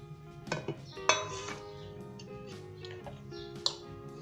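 Cubes of bread are tossed into egg batter in a bowl, with a few sharp clinks of a utensil against the bowl and softer scraping between them. The sounds are close and moderately quiet, with no talking.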